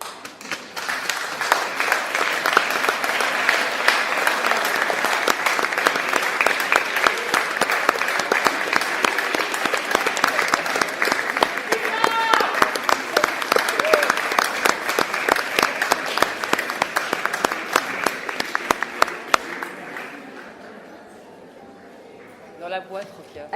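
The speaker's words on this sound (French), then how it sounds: "c'est de vous regarder les uns et les autres et de vous applaudir" An audience at a festival claps in a dense, steady round of applause for about twenty seconds before it trails off into near quiet, with a few scattered voices at the end.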